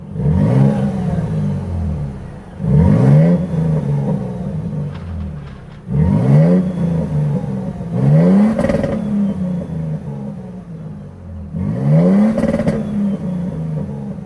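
A 2024 Toyota Sequoia TRD-Pro's 3.4-liter twin-turbo hybrid V6 engine revs hard about five times in steady cycles, each rising roar falling back to a rumbling idle, loud and close with no voices.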